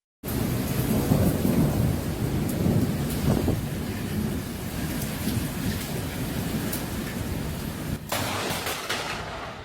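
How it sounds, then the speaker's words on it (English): A heavy, steady downpour roars continuously while thunder rumbles through it, with a sharper crack near the end. "The storm was intense"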